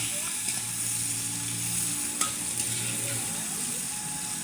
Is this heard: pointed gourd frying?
yes